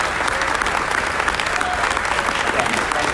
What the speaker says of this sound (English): have a round of applause for them for being here tonight